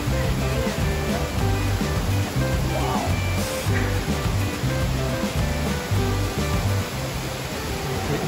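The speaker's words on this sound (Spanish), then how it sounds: "Oh my God, there's a waterfall in here." Steady broadband rush of an indoor waterfall inside a Bass Pro Shops store fills the space, with people talking excitedly over it throughout.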